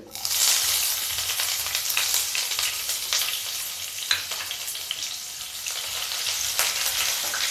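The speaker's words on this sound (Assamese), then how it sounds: "এতিয়া মই কাটি থোৱা পিয়াজখিনি দি দিম" Chopped onions sizzling in a pan with bay leaves for a jackfruit curry: a steady, bright hiss of frying oil with occasional crackles and stirring scrapes, close and continuous, with no talking.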